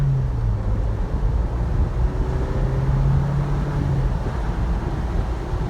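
A 2020 Jeep Wrangler Rubicon with a 270-horsepower turbocharged 4-cylinder accelerates in a big, boxy body, giving a steady low engine drone with a slowly rising tone and constant wind and road rumble from inside the cabin.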